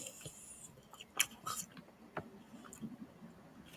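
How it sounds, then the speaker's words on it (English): Fried squid strips being chewed close up, with soft, irregular wet bites and clicks spread across a few seconds, quiet overall with one sharper snap at the end. "I'm still chewing."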